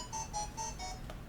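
Beeping from the Final Fantasy IX video game: four rapid, evenly spaced electronic beeps in a quick rhythm, fairly faint, followed by a couple of softer blips.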